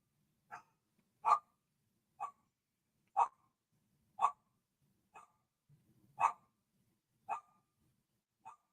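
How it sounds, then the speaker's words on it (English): A dog barks in single sharp woofs spaced about a second apart, nine in all, moderately close in a quiet room with a faint low murmur between them. "The dog's barking."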